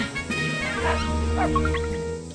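A wild dog minion in the farming game Shepherd's Crossing barks and yips in a short, close, fairly quiet burst of game sound effects.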